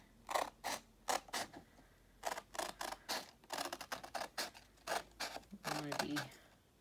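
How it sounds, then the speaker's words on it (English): Scissors snip through skateboard design paper in a steady series of short, crisp cuts, close and distinct, speeding into quick bursts toward the end. "So I've got my scissors ready. So you're gonna just wanna carefully cut this."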